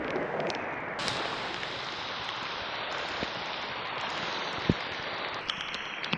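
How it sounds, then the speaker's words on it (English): Heavy rain pours steadily in a rainforest campsite at night, a dense continuous hiss with no letup, close and enveloping, with a few brief knocks and taps standing out near the end. "the rain's really started to pick up"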